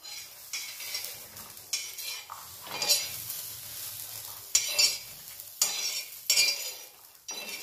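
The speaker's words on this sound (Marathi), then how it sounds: "असे जास्त चटका लागू द्यायचा आणि असं मस्त भाजून घ्यायचं" Pigeon pea seeds dry-roasting in a hot pan, bursts of bright rattling and scraping as they are stirred, with sharp metallic clinks of a utensil against the pan between quieter gaps.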